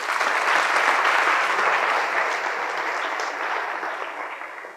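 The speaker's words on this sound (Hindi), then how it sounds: "अगर अच्छी बात लगी तो ताली बजा दो।" A seminar audience at a career counselling session claps together in a loud, dense wave that holds steady and then gradually tapers off.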